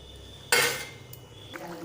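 A metal lid lifts off a pot of simmering snakehead fish curry with a sudden bright clatter, then a faint clink of the lid a moment later, with low kitchen sounds continuing beneath.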